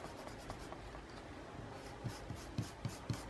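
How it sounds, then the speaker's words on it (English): An eraser rubbing out a drawn white line: soft, faint scratchy rubbing strokes, growing into a series of short rhythmic scrubs toward the end, close and quiet with no talk. "If I can get it erased. Maybe. I can kind of erase it."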